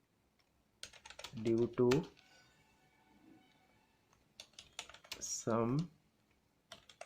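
Computer keyboard typing while a bank account closure letter is written in MS Word, brisk close key clicks running between stretches of a person speaking.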